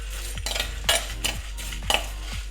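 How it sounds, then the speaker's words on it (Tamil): Coriander seeds, cumin, fennel, fenugreek, dried chillies, pepper and lentils are dry-roasted in a clay pot with a stirring spoon, giving repeated scraping strokes and clinks about every half second, close and without talk. "தனியா போடுறேங்க, சீரகம், பெருஞ்சீரகம் போடுறேன், வெந்தயம், வத்தல், மிளகு, கடலைப்பருப்பு, துவரம்பருப்பு எல்லாமே ஒன்றாமே போட்டு வறுத்துடலாம்"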